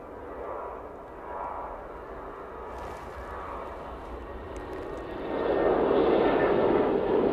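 Ryanair passenger jet passing at Manchester Airport, a distant engine rumble that swells into a louder, closer roar near the end.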